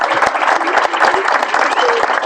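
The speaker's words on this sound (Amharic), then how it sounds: "አጨብጭቡልኝ በእናታችሁ።" Audience applause at an Ethiopian award event, where an artist receives a car: loud, dense clapping from a crowd throughout, with scattered voices mixed in.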